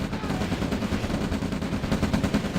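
Rapid machine gun fire from Yak aircraft on strafing runs in the OpenRA Red Alert real-time strategy game, a dense, continuous rattling burst running loud and steady throughout.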